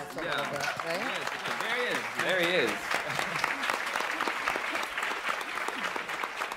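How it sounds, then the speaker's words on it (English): Audience applause at a Cannes Film Festival press conference, steady dense clapping that carries on throughout while someone speaks briefly over it early on. "big applause"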